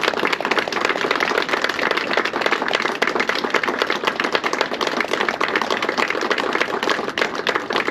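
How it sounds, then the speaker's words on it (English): A large audience applauds steadily and loudly at a retirement ceremony, honoring the Froderman family; dense, continuous clapping fills the whole stretch without pause or speech. "I would ask you to rise and join me in a round of applause for the Froderman family"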